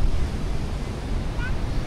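Storm-driven waves at high tide slap against a rocky shore at a seaside cottage, a steady loud roar of surf mixed with strong wind buffeting the microphone, continuous with no clear breaks.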